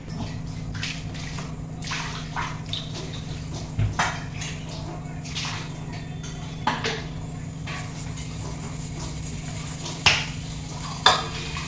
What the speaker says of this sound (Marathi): आता इकडे भांडी घासून घेऊया